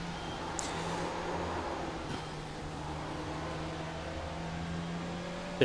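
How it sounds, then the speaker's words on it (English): Front-wheel drive race car engine in the iRacing simulator, drifting on track: a steady, continuous engine drone with a sustained low hum and faint higher tones, holding fairly even throughout and ending in a brief louder burst. "I'm drifting a front-wheel drive car."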